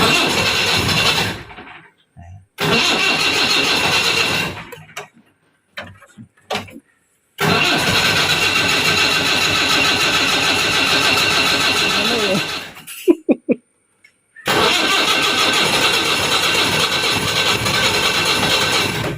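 A diesel jeep's engine runs loud and close in long sustained stretches, broken by abrupt silences and brief clattering bursts as it restarts and idles.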